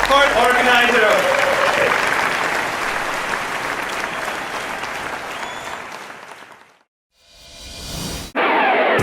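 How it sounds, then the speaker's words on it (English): A conference crowd gives an organizer a huge, loud round of applause, dense clapping holding for about six seconds, then fading away before a brief gap and a sudden return of sound. "Huge round of applause, as big as you can get, for an organizer."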